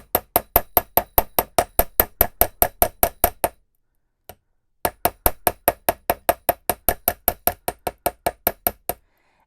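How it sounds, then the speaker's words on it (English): Hammer tapping a wire earring loop on a metal block, struck in a steady run of about fourteen crisp, ringing knocks, a short pause with a single tap, then another even run of similar blows, loud and close with no talk. "now I'm going to take the hammer and I'm going to hit it in different areas"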